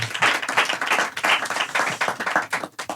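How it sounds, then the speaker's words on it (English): Round of applause from a small studio audience during a podcast taping, with clustered hand claps rising and falling in uneven bursts, close and fairly loud, no talk over it. "Round of applause for Lucas in the back."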